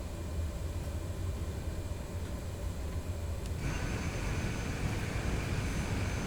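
A Cessna Grand Caravan 208B turboprop in Microsoft Flight Simulator drones steadily in a broad, constant engine roar that grows slightly louder and fuller partway through, with no talk.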